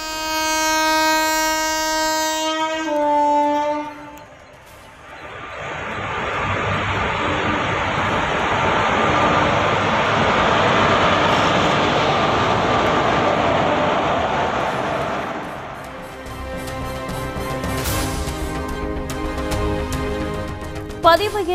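A train on a high-speed test run between Cuddalore and Vriddhachalam at 121 km/h roars past loud and close, with a horn blast first and a broad rushing rumble that builds, holds, then fades.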